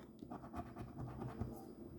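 A scratch-off lottery card rubbed with quick, rasping strokes, close and fairly quiet, several short scrapes in a steady back-and-forth rhythm.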